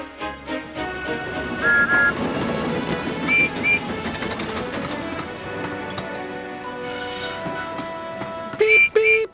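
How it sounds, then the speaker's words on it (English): Music plays throughout, with a few brief steam locomotive whistle toots: a short pair early on and a louder, sharper toot near the end. "Whistled Percy."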